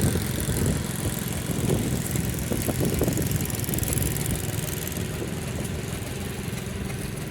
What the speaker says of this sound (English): It's a Kenworth Cabover